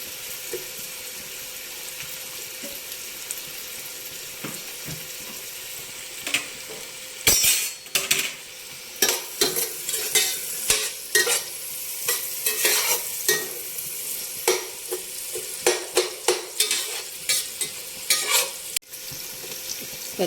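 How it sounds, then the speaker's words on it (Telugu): Sliced onions frying in a pan for a Telugu fish curry, a soft steady sizzle joined midway by repeated clattering stirs and scrapes of a spoon against the pan, close and fairly loud. "ఇది చక్కగా ఎర్రగా గోల్డెన్ కలర్ వచ్చే వరకు వేగాలండి."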